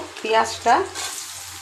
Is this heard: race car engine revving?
no